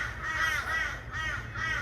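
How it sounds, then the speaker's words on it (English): Several crows caw in repeated harsh bursts, fairly close and loud, with a low steady rumble underneath and no voices. "These crows."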